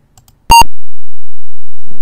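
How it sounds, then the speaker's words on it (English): Apple computer startup beep, a single loud, clean electronic tone lasting a fraction of a second after near silence, followed by quiet. "That famous beep sound when you boot up your Apple."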